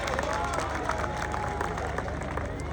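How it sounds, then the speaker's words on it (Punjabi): Crowd at a Punjabi wedding event applauding and cheering for the younger sister, steady clapping and babble filling the whole stretch at a moderate distance. "ਇੱਕ ਵਾਰ ਸਾਡੀ ਛੋਟੀ ਭੈਣ ਲਈ ਵੀ ਜ਼ੋਰਦਾਰ ਤਾੜੀਆਂ ਮਾਰੋ"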